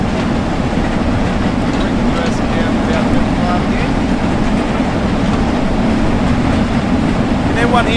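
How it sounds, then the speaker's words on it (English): A steam train running in the Train Sim World game makes a loud, steady rumbling roar with constant low chugging and rattling, unbroken from start to finish, while a person talks over it. "I know it is really loud. The train is very loud."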